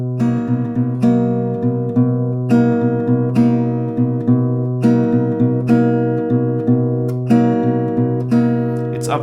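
Acoustic guitar strummed in a steady bass-top rhythm with brief pauses, with sharp pick attacks over ringing open chords, close and loud, without any voice.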